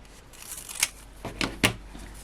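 Scissors cut layers of a paper craft in half, making a few crisp snips and papery rustles close by, with three clear cuts in quick succession.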